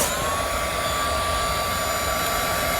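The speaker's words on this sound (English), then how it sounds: "I'm putting my heat setting on low to start because I don't want it to blow the ink, because this is a more or less an embossing heat gun" An embossing heat gun on its low setting blows steadily over distress ink, a continuous even hiss with a faint whine, close and uninterrupted, no voices.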